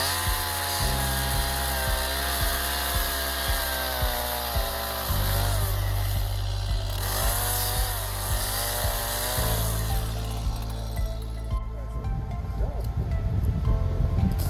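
Chainsaw cutting notch joints into logs while building a log cabin on a riverbank, loud and close, its steady engine whine shifting pitch as the chain bites in and eases off through several cuts.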